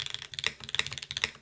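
Rapid keystrokes on an EAU75 v2 mechanical keyboard with plate foam, a quick run of crisp, close clacks in an uneven typing rhythm, quiet and isolated with no talking.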